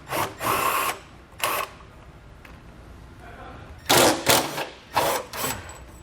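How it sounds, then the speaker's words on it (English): Power tool driving a 13mm socket to unscrew a muffler bolt under a 2019 Volkswagen, heard as several short whirring bursts separated by quiet pauses. "So I'll use a 13mm socket to unscrew it."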